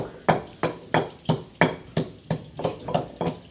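Dried raw mango, amchur, being pounded coarsely, about a dozen sharp, evenly spaced thuds close by, alone without talk.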